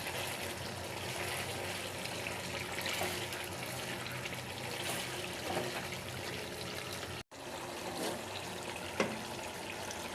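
Hot water pours into a pot of beef curry in a continuous, even rushing splash that holds steady for about ten seconds, broken by a brief gap, close and fairly quiet with no talking.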